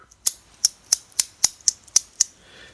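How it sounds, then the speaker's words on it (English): A stainless steel haptic coin snaps together again and again, giving eight sharp, bright metallic clicks at a quick, even pace, close and clear against a quiet background. "Stainless steel seems like with some of the weight and the momentum, it really wants to snap apart a little bit more."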